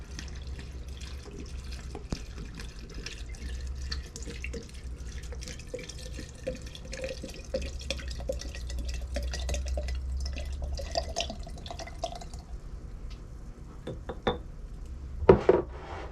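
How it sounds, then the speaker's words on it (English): Champagne or wine vinegar poured into a glass jar, a steady close trickle of liquid running for about twelve seconds, then stopping, followed by a couple of brief clinks near the end. "We're going to see how much vinegar I can put in here."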